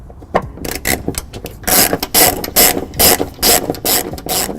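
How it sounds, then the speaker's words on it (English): A ratchet wrench with a 10mm socket loosens the bolts on a 2014 Honda CR-V trunk pan, giving repeated loud, close clicking bursts in a steady back-and-forth rhythm with no talking. "we're going to be using a 10mm socket to lower them down"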